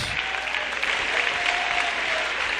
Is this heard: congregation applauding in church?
yes